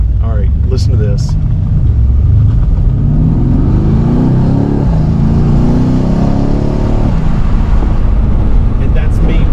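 Mercedes-Benz C63S AMG V8 in Sport Plus mode, revved with light throttle in second gear, rising and falling in loud repeated swells of deep engine roar, with a few brief voice bursts at the start and end.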